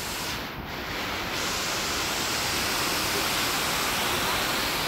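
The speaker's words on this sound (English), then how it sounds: "Here's the bottom of the waterfall." Waterfall heard from near its base on a Georgia outing, a dense, loud, unbroken roar of crashing water filling the whole scene.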